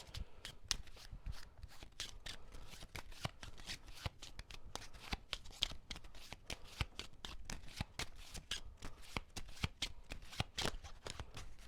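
A deck of cards is riffled and shuffled repeatedly, a rapid run of crisp flicking snaps that continues steadily, close up.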